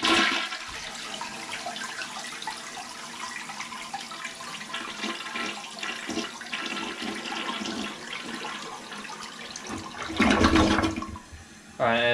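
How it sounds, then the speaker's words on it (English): A toilet flushes after a root-killing copper sulfate treatment is poured into the bowl, a long rushing, swirling water noise close by that surges loudly again near the end. "And I'm gonna flush it."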